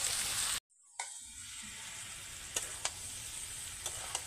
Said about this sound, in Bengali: পটল, আলু, ছোলার ডাল একসঙ্গে ভালোভাবে কষিয়ে নিয়েছি